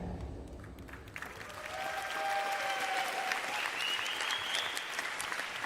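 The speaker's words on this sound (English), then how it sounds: "let's all applaud the new 50 Best winners together." Audience applause for the winners at The World's 50 Best Restaurants awards ceremony in Turin, a distant, sustained roar of clapping that slowly swells, with a faint tonal sound and murmur beneath it.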